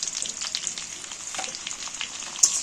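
Potatoes seasoned with salt and turmeric fry in hot oil, filling the clip with a steady bright hiss and crackle, stirred briefly with a clink near the end, no voices.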